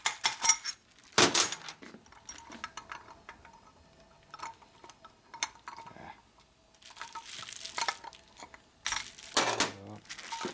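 A metal washer is flipped over on a 1979 Harley-Davidson Shovelhead 80ci motor during a rebuild, giving a few sharp metallic clinks and taps close up, with quieter handling rattles between them.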